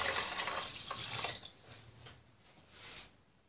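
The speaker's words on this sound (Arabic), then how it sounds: "دابا غندير واحد 2 إيطرو ديال الماء، هذا ماء عادي خديته من" Tap water pours into a cooking pot while Moroccan white beans are prepared, a rushing splash that fades in spurts, then rises again briefly.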